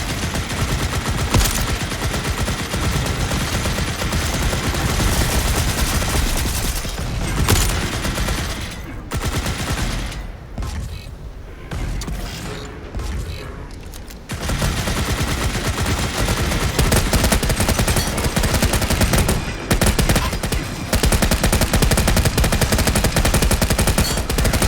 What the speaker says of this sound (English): I can't run with the minigun equipped.